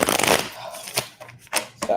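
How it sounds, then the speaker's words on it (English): A deck of tarot cards is shuffled by hand in a few quick riffling bursts, interleaved with a person talking nearby. "Let me shuffle these cards up a little bit."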